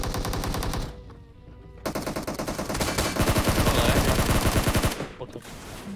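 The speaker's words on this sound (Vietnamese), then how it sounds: "Sao em lại nghe tiếng đi bắn tạch tạch tạch tạch" Rapid automatic gunfire in the PUBG Mobile video game comes in dense, loud bursts with a sharp rhythmic crackle. A short lull follows, then a longer sustained stream of shots that tapers off into scattered rounds.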